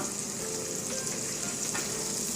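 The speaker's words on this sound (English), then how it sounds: "To that I'm going to add the tablespoon of butter that I've taken" A tablespoon of butter melts in a pan for tomato soup, giving off a steady, close, even sizzle with a light crackle and no talking.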